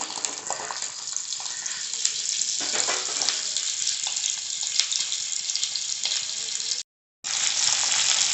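Chopped onions crackle and sizzle steadily in hot sesame oil in a pan for a country-chicken kuzhambu, a dense close hiss that runs unbroken apart from one brief cut near the end; no one speaks.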